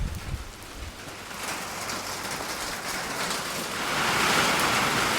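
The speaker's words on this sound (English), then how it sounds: "Goodness, trying to rain," A rain shower outdoors on a farm, steady hiss of rain falling on surfaces close by, growing heavier and louder toward the end with no talk.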